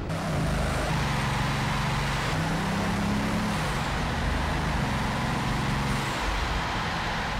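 A Bugatti Veyron's 1,001-horsepower engine running on its chassis in an enclosed test chamber gives a loud, unbroken roar with a low steady hum beneath it, constant throughout with no voices.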